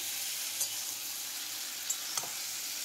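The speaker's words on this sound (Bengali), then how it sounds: "মশলার সঙ্গে আবারও বেশ কিছুক্ষণ কষিয়ে নেব।" Drumstick (sajne danta) pieces are sautéed with spices in a pan over low to medium heat, giving a steady hiss of sizzling with a couple of light scraping taps from stirring.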